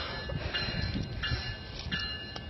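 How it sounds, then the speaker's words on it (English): A train on railway tracks, captured by a police body camera, gives a steady rumbling roll with faint tonal squeals and soft clanks throughout. "Train stopped right before he moves."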